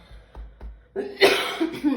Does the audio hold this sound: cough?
yes